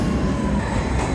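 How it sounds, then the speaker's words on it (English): A Paris subway train rumbles steadily at close range, a dense low roar of wheels and carriage noise running throughout with no voices heard. "We're taking another train."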